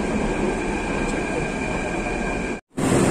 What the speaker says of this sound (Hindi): मेरा मेट्रो आया हुआ,